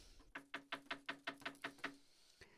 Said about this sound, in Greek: Για να χτυπήσω την πόρτα.